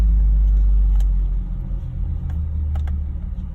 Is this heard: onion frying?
no